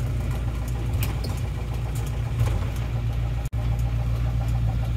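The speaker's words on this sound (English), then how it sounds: "I'm driving a freaking mail truck" An old mail truck's engine runs steadily from inside the cab, a low rumbling idle with a faint knocking texture and a brief dropout midway.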